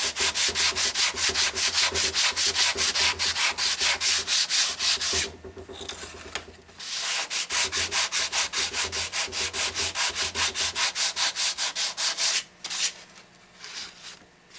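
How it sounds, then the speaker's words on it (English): Rapid, rhythmic back-and-forth scraping of sandpaper on wood, loud and close, with two short pauses before the strokes resume. "I've been sanding it a little bit, get rid of the excess glue"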